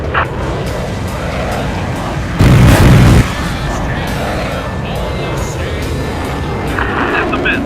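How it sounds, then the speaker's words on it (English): A bomb dropped in the video game Air Conflicts Vietnam explodes in a single loud, short boom over a steady engine drone that continues afterward. "Dropping bomb."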